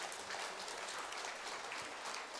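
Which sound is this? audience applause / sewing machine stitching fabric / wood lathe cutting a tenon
audience applause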